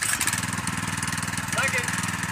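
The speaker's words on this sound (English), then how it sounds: "Of course it doesn't start first pull." Small petrol engine on a concrete power trowel with a CVT upgrade, running loud and close with a steady, rapid rhythmic chug; a brief faint voice sounds near the end.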